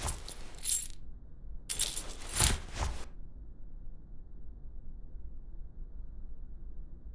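Keys jangle in the stealth adventure game The Raven: Legacy of a Master Thief, two short metallic jingles close up, separated by a brief pause and followed by near silence.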